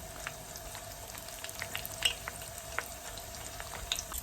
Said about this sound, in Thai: ทอดให้กรอบเลยค่ะ